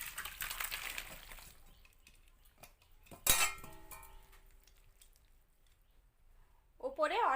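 Cooked jackfruit curry being served from the pot into a dish: soft scraping and squishing, one sharp clink of utensil against cookware, then a quiet stretch, with a brief voice at the end.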